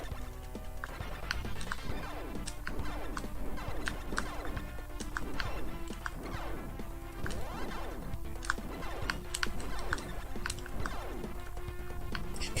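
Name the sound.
game controller buttons clacking while playing retro games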